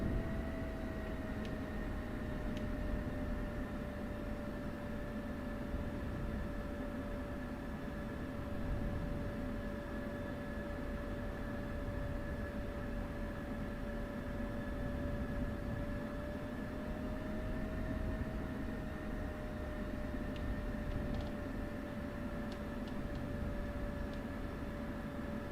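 An F-16 Viper jet engine idles on a runway in a flight simulator game: a steady, fairly quiet drone with a sustained whining tone over low rumble, constant and unbroken.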